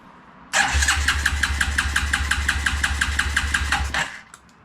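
A 1993 Suzuki King Quad 300 ATV engine with an ignition fault cranks and catches abruptly, then runs with a fast, even, rather rough put-put beat close by for about three seconds before cutting off.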